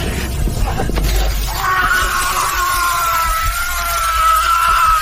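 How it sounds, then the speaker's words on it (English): A sustained scream from a captive man taken out onto a balcony, held as a loud, strained tone for several seconds over a rough, noisy background. "Listen to that scream."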